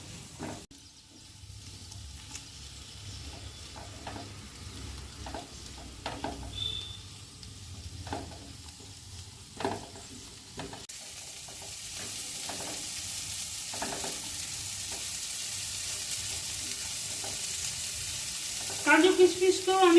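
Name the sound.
cashews and raisins frying in a pan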